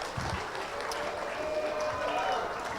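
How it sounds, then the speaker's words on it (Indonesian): A seminar audience gives a low, even wash of applause that runs through the whole moment, with voices mixed in over the clapping. "Berikan tepuk tangan yang meriah untuk kita hari ini."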